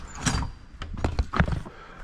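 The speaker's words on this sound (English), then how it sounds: "I'm gonna get this door open so Big Ray can pull in." A large garage or shop door is opened so a dually truck can pull in, giving a series of clunks, rattles and rolling mechanical noise at close range, with no talk.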